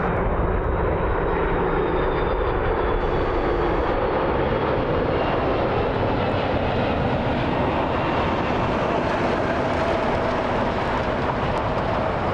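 A Delta airliner arriving at Las Vegas on a flight from Charles de Gaulle in Paris gives a loud, continuous jet engine roar, steady and close, filling the whole stretch with no talk over it.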